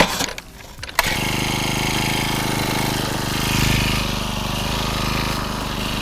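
A powered ice auger drills holes through frozen lake ice while ice fishing, its engine starting after a second of quiet and then running as a loud, steady drone that rises briefly midway.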